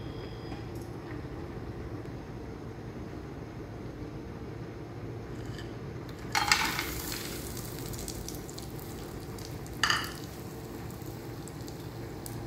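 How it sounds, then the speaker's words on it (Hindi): Dry fruits fry in a little oil in a pan while saffron sheer khurma is being made. A steady close-up sizzle runs throughout, with two short louder bursts of crackling about midway. No one speaks. "ये थोड़ा सा ऑयल इसमें डाल के और जो ड्राई फ्रूट आपने रखा हुआ है उसको थोड़ा सा फ्राई कर लें।"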